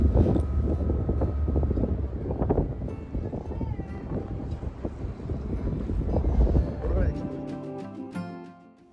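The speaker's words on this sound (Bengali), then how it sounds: "এই বোটগুলো ভীষণ জোরে যায় তো দাঁড়িয়ে দাঁড়িয়ে ভিডিও করাটা একটা ভীষণ মুশকিল ব্যাপার হাওয়াও দেয় প্রচুর জোরে" A fast tour boat speeding across the water toward the Statue of Liberty, with a loud engine drone and heavy wind rushing against the microphone, easing off near the end.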